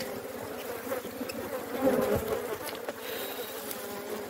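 Honeybees from a swarm colony drone around a hive in one continuous buzz, close and steady, with no voices.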